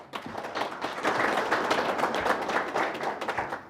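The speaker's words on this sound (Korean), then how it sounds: "큰 박수로 맞이해 주시기 바랍니다." Audience applause welcoming a speaker to open a National Assembly forum on drones, a steady crowd of clapping hands sustained across the whole stretch at moderate loudness.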